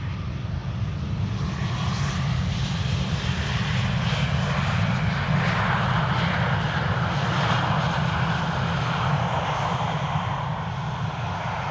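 An aircraft landing at Amsterdam Schiphol Airport roars close and loud, a broad steady engine rumble with a rising and falling hiss that holds throughout with no voices.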